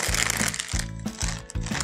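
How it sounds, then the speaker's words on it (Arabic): Large plastic bag opened in a home kitchen while breadcrumbs are readied for crispy chicken tenders, a close crinkling rustle in three quick bursts over a low steady background. "بفتح الكيس"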